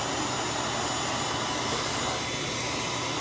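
A vacuum cleaner fitted with a soft horse hair dusting brush attachment runs with a steady, close, airy whine and rush, unbroken throughout with no talk.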